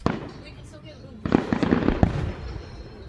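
Fireworks burst in a rapid cluster of sharp booms and crackles after a brief lull, heard at moderate distance with voices talking over the display.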